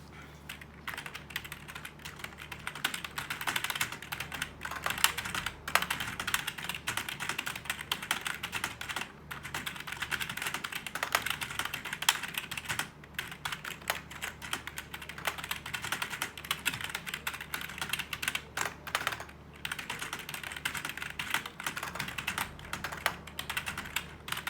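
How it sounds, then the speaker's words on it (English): Continuous typing on a Fantech K611 Fighter membrane gaming keyboard, a dense, steady stream of muffled key presses heard up close with only short breaks, no voices. "just to hear the sound test of this keyboard"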